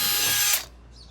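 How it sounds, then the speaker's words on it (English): A loud, high-pitched power drill whirring briefly while drilling a hole into a wall without a stud, then stopping abruptly with a faint mechanical tail. "We're going to drill our hole."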